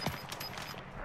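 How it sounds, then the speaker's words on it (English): A short burst of rapid video-game gunfire crackles in several quick cracks over about a second, close and fairly loud. "Taking fire over here."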